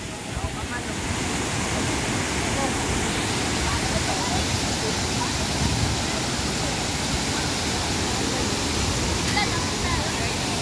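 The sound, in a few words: Tinuy-an Falls waterfall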